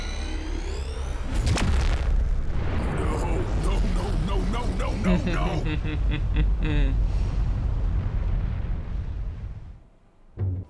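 A volcanic eruption explosion in the video game Serious Sam 4 booms out in a loud burst near the start, followed by a long rumbling roar that later breaks off, with game dialogue and in-game voices running over it.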